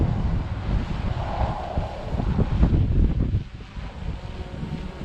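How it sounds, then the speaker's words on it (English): Strong wind gusts on a blustery day buffet the microphone with a loud, rumbling roar that swells and eases, briefly dropping near the end, with no voices. "especially on windy days like this"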